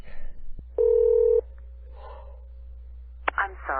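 Touch-tone telephone keypad tones while placing a call, a long steady tone followed by a few short beeps, then a brief clatter and a voice near the end.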